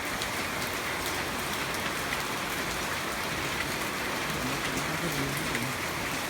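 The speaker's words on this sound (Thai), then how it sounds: "มากับฝนพำๆนะครับวันนี้" Light drizzling rain patters steadily and evenly on a surface outdoors, a soft continuous hiss filling the scene close by, with no voices over it.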